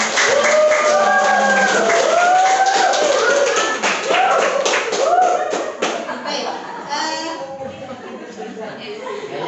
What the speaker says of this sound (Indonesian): Sebelumnya mari sama-sama kita beri aplaus dulu dong.